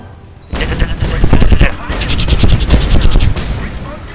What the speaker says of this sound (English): around the city, raining down laser-ridden mayhem